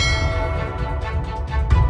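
Bells ring through a television channel's intro jingle for a biblical drama series, loud and sustained over a full musical backing, with no talk.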